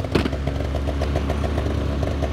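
A snowmobile engine revs steadily and loud, close by, as the sled is tipped onto its side on firm, hard-packed snow, with a rough, continuous motor drone throughout.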